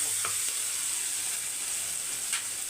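Food sautéing in a pan gives off a steady, close sizzling hiss throughout, with a couple of soft stirring scrapes and no voices.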